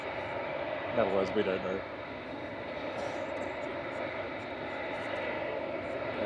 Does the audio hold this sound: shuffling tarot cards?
no